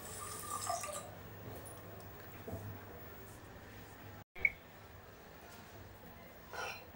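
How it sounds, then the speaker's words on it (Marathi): Water is poured over rice set in a small stand dish inside a pressure cooker: a soft, low splashing and trickle that rises briefly near the end, with faint kitchen noise around it. "पाणी टाकूया।"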